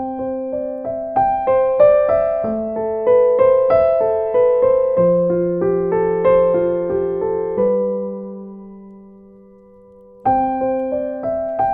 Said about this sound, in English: when I add the pedal and when I play a little faster,